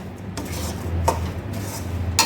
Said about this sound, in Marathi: गूळ पूर्ण वितळला आहे त्यामध्ये बेरी घालायची आहे बेरी आधी मिक्स करून घ्यायची